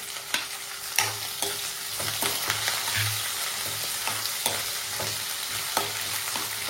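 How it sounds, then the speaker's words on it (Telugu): Onions, green chillies and curry leaves sizzle in hot oil with mustard seeds and cumin for a masala dosa filling, a steady close frying hiss broken by repeated scraping stirs. "ఒక 2 నిమిషాలు అట్లా ఫ్రై అవనిద్దాం."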